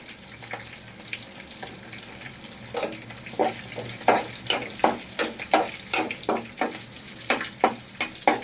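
Cashews fry in hot tempering oil under a low background hiss, then a spoon stirs and scrapes the pan in a steady run of sharp, close, rhythmic knocks roughly twice per second.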